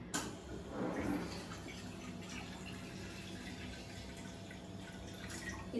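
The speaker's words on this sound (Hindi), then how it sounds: "फिर उसमें आप पानी लो" Water pours into a cooking pot in a home kitchen, a steady splashing and trickling stream heard close up and continuing without pause.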